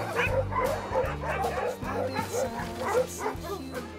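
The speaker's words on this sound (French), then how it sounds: "Les chiens sont un peu excités parce que ils vont bientôt courir, ils le savent." Excited sled dogs before a run in a Mauricie wildlife reserve, several nearby dogs yipping, whining and barking in quick overlapping bursts that continue without pause.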